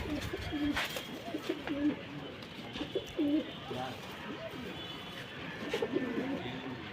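Pigeons kept as prize birds coo in repeated low, throaty phrases at close range, several birds overlapping, with occasional voices in the background.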